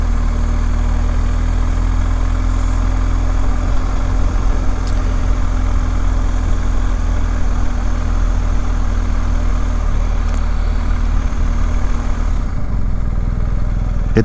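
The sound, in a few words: BMW 1250 GS motorcycle engine, riding slowly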